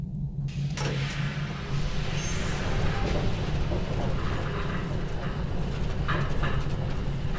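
Machinery hum and rumble of an elevator rising in the video game Riven on Jungle Island, a steady low drone with faint clanks, heard alone.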